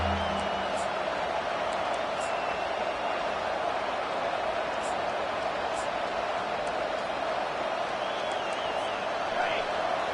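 A home crowd at a football game roars as the defense tries to get off the field on third down, a loud, dense, sustained wall of cheering that holds steady for the full ten seconds.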